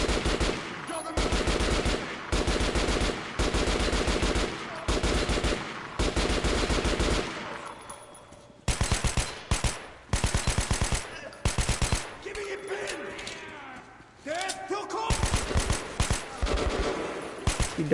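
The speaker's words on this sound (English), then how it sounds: "the RPK, I guess. Got a 90 round mag, so we can really lay down some suppressive fire with this one" An RPK machine gun with a 90-round magazine fires in Metro Last Light Redux, in long loud sustained bursts separated by brief pauses, close and dominant throughout, with no talk.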